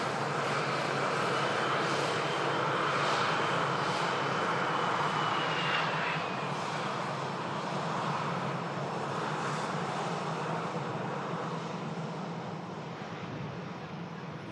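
A Jet2 Boeing 757 roars through its landing at Manchester Airport, a broad, steady engine rumble with wind noise that holds loud and then slowly eases off toward the end.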